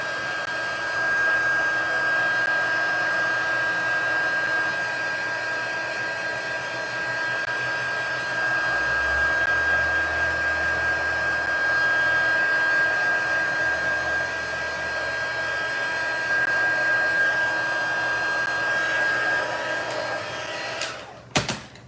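A heat tool blows steadily for about twenty seconds, melting gilded leafing embossing powder, a loud continuous whirring hiss that cuts off abruptly near the end.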